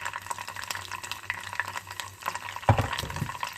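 Boiled hot water pours from a kettle into a pot of stuffed vine leaves, a thin trickling stream with light splashes that swells into a fuller gush near the end.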